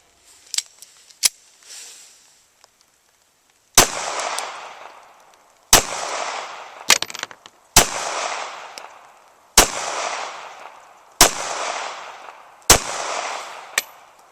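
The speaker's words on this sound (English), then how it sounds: "that last group of 6 shots was at exactly 8 paces" Ruger LCP .380 pistol fired at an outdoor range, sharp loud reports with ringing decay, several spaced shots in an irregular rhythm, a few faint clicks early on, no talk.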